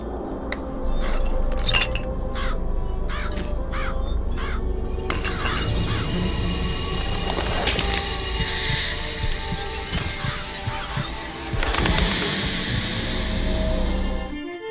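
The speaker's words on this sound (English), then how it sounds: "Press to summon murderous crows." Murderous crows summoned by a vigor in BioShock Infinite caw repeatedly in sharp bursts at the start, followed by flapping, glassy clinks and swirling magical effects, loud and close.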